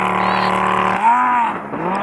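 A tuned 560 hp Audi S4 with 800 Nm of torque accelerates hard during a race. The engine roars loudly and steadily, and a rising whine sweeps upward midway through, with a voice briefly heard over it.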